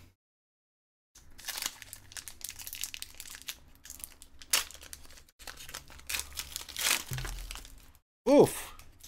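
Pokémon Sun & Moon base set booster pack wrappers crinkle and tear in close, irregular bursts of foil rustling, and a short voice comes in at the end.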